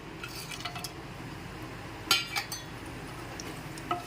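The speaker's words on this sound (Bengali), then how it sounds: "ভালো করে একটু নেড়ে চেড়ে ফোড়নটাকে ফ্রাই করে নিচ্ছি" Whole spices such as bay leaf, mace, cloves, cinnamon and cardamom are stirred in hot oil for a shahi paneer tempering. Quiet clinks of a spoon against the pan sound over a faint low sizzle, with a cluster of sharper metallic taps midway.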